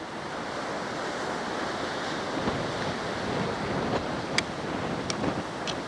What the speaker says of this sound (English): Look at that rolling surf.